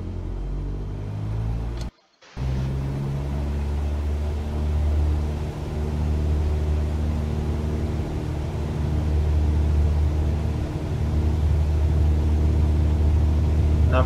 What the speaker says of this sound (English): full throttle here, just waiting for my speed indicator to let me know I'm at 60 knots